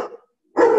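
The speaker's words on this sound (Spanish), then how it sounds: "Hay un perro y todo ahí ladrando." A dog barks nearby during an indoor cataract surgery session, two short sharp barks separated by a brief pause.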